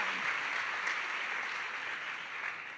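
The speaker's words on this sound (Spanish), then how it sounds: "Démosle un fuerte aplauso al Señor." A church congregation applauds together, a dense, steady wash of clapping that holds at an even level from start to finish, with no talk over it.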